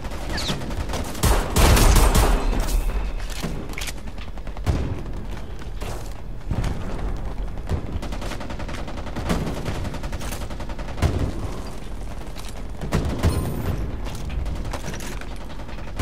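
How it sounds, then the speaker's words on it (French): Weapons fire in Homefront: The Revolution on Xbox One: rapid bursts of gunshots and booms with mechanical clicks and ratcheting between volleys, loud and close, the heaviest barrage coming early. "Le bruit des armes est bon."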